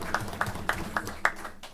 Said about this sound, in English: let's give all three of these a big round of applause